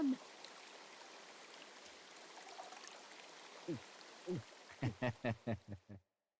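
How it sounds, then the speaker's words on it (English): Natural spring water flows in the video game Metaphor: ReFantazio as a steady, even rush. It runs alone for several seconds before short spoken voice lines cut in near the end. "Could be a natural spring of some kind."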